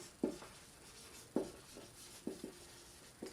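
Marker or chalk strokes on a classroom board during a grammar lesson, a few brief soft scratches spaced apart, faint and close in a quiet room.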